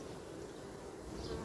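Honeybees at an apiary hum in a steady, even drone throughout, fairly faint and continuous with no voices.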